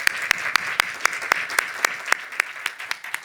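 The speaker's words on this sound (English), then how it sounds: "So I'm just going to clap for the panel." Scattered audience applause for a panel at a conference session, with a few loud, evenly spaced claps standing out close by over a thinner bed of clapping from the rest of the room.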